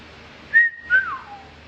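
A person whistles two short rising notes followed by a longer falling glide, clear and close against a quiet background.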